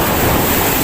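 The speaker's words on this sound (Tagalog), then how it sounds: "Malakas ang alon." Strong ocean waves at the shore during a fishing outing, a loud continuous roar of surf mixed with wind buffeting across the whole brief moment.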